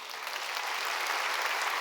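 A church congregation claps together in steady, continuous applause that stays loud and dense for the whole stretch, with no talk over it.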